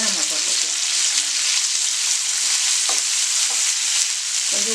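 Sliced big onion and green chilies frying in a pan with oil, a loud, continuous close sizzle with occasional spatula scrapes, no talking.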